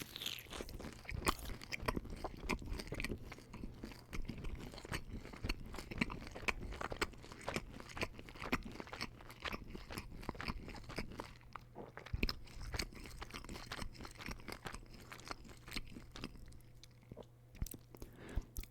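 Domino's loaded tater tots are bitten and chewed close to the microphone in a steady run of soft, wet crunches and mouth sounds, quiet and intimate, with no talking.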